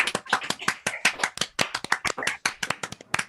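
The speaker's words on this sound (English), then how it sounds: "Give them a round of applause." A small audience at an evening tech talk claps in a sparse, uneven burst, individual hand claps distinct and fairly quiet with gaps between them.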